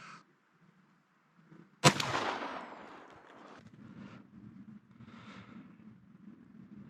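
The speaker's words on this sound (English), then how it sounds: "next up here is the Federal Steel 2 shot bottom barrel with the modified choke" A single loud shotgun blast from the bottom barrel of an over-under with a modified choke, firing Federal Steel 2 shot, cracks sharply and then rolls away in a long decaying echo over quiet outdoor background.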